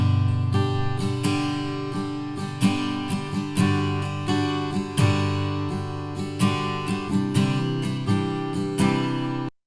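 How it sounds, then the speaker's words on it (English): Acoustic guitar strummed and picked in a steady rhythm, recorded close with a large diaphragm condenser microphone and left unprocessed, with bright pick attacks and ringing chords that decay naturally, no voices. "Now let's take a listen to the guitar microphone, the large diaphragm condenser, direct with no processing."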